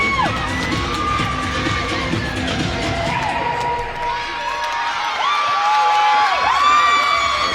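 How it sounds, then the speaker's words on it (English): A large crowd at a college gymnastics meet cheers and whoops loudly after a floor routine, with sustained shouting and high-pitched cheers throughout. "Big cheer from the strong contingent for Lindenwood."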